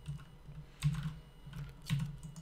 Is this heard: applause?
no